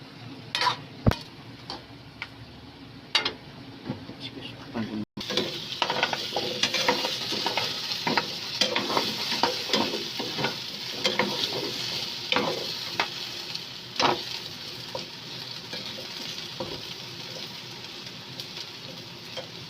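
Chicken adobo bubbling and sizzling steadily in a hot pan, a continuous crackling hiss with scattered pops and the occasional clink of a utensil.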